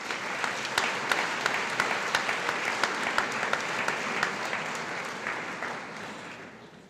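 An audience at a high school awards night claps for award-winning students, a dense, steady round of applause with sharp individual claps standing out, holding strong before gradually tapering off.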